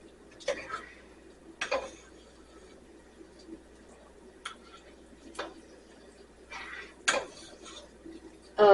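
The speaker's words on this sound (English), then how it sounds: "Make sure you stir it up good." Homemade hamburger helper being stirred in a pan: a handful of sharp metallic clanks and scrapes of a utensil against the pan at irregular intervals, close up over a quiet background.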